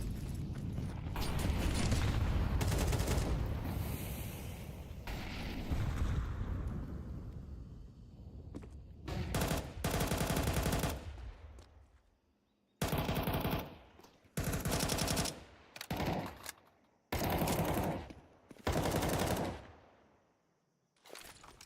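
Pistol gunfire in a Counter-Strike pro match: loud blasts of repeated shots in separate bursts, some sustained and some clipped short, with quiet gaps between them and no talking.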